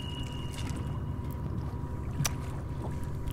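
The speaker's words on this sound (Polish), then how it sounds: "Co to za kajak? Jedziemy przez bajoru." Kayak paddling through a swamp in a video game, a steady, close wash of water and paddle strokes running continuously, with a sharp splash or knock near the end.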